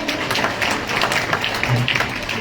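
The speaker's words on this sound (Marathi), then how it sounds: "सर्वांच्या जोरदार टाळ्या गजरामध्ये आपण सर्व मंडळांचं स्वागत करूया" A ceremony crowd claps steadily to welcome guests, dense and continuous applause filling the space, with some faint voices mixed underneath.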